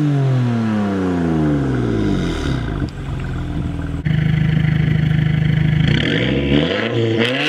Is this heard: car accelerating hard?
yes